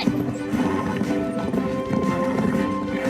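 A horse's hooves drum in a fast, steady galloping rhythm, close and loud, along with a brief neigh over a busy background.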